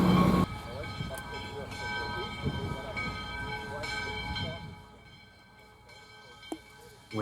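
US Sugar steam locomotive number 148 leads a train toward Port Mayaca, giving a rumbling, hissing run with ringing tones that fades toward the end. Voices can be heard now and then.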